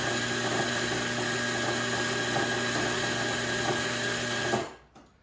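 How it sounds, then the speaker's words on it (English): An Azkoyen brewer's coffee bean grinder grinds beans in a steady, loud, whirring drone that holds evenly and then stops abruptly, winding down to silence. "scroll all the way to coffee bean grinder, hit the D button, and let it grind"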